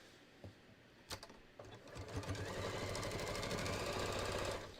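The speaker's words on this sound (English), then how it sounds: "my machine is having no trouble sewing through 2 layers of this foam" A sewing machine stitching through two layers of foam, with a few isolated clicks and thumps, then a fast steady mechanical rattle that builds and holds, close and fairly quiet.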